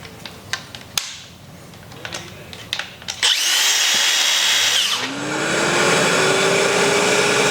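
Metabo cordless power tool starting up and running loud and steady after some scattered handling clicks and knocks, with a rising whine as it spins up.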